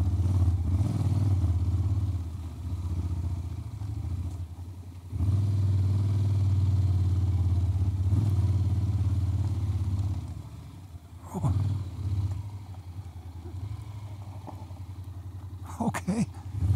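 A Honda X-ADV scooter climbs a steep, slippery uphill gravel road, its engine a steady close drone with crunching and rattling from the tires, easing off toward the end where short bumps and knocks break through.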